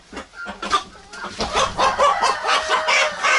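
A young rooster and several chickens cluck loudly and repeatedly at close range in a farmyard, overlapping in quick, agitated bursts.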